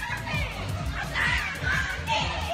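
A crowd gathers in rural China, with children shouting and voices chattering close by in a lively, continuous din.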